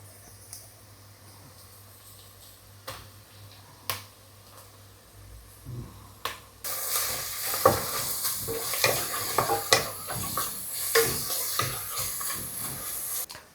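Crushed ingredients dropped into browned onions frying for a beef biryani: a few quiet clicks, then a sudden loud hissing sizzle with repeated scraping stirs, up close.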